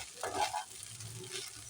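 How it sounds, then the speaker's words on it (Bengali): Pasta being stirred with carrot, beans and capsicum in a frying pan gives a faint, close sizzle with a short scraping stir near the start, and a low background hum under it. "পাস্তাটা নাড়তে হবে"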